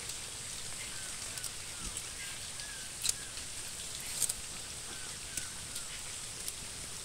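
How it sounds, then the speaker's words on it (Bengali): Light rain falls steadily outdoors during the monsoon around a village garden of green leafy plants, a soft continuous patter with a few brighter drops, faint and even, with no voices. "বৃষ্টি একটু কমেছে,"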